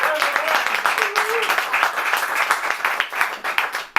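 Audience applause at a stand-up comedy show, a dense stretch of clapping from a crowd that stays strong for several seconds, with brief voices over it.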